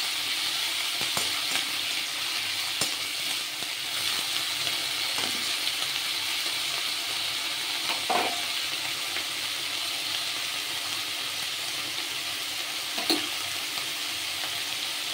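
Bottle gourd peel and drumstick leaves fry in a pan, a steady close hiss of sizzling with a few soft stirring knocks scattered through.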